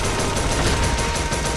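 Sustained burst of automatic rifle fire in a first-person shooter video game, rapid continuous shots loud and close for the whole stretch.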